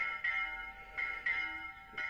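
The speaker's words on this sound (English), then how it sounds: "the bells are coming from the church there" Church bells ring out over a hillside Spanish town in Alhama de Granada, heard from a rooftop terrace as repeated bright metallic strikes at a steady, unhurried pace, moderately distant and fairly soft, with no talk.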